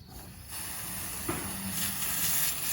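A garden hose sprays water to rinse soil from pepper plant roots, a steady close hiss that starts abruptly and continues evenly with slight splashing changes.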